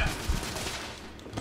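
Gunfire in the video game The Order: 1886, a short dense burst of rapid shots, moderately loud and mixed with game noise.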